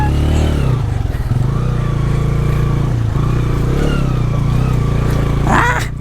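A motorcycle rides downhill on a road toward the Lakhenchuli waterfall. The engine drones loud and close, holding a steady pitch the whole way, with faint rattles over it.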